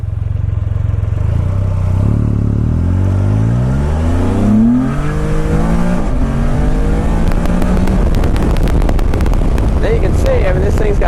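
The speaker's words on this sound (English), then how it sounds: "It revs it up and pops into the proper gear." A close Can-Am Spyder F3 three-wheeled motorcycle engine revs up in rising sweeps, drops as it shifts through gears, and keeps climbing again, loud and continuous.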